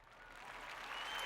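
Scattered applause from a small group at home after two red blooms appear on an Aglaonema Red Army plant, a short, steady patter that swells slightly toward the end.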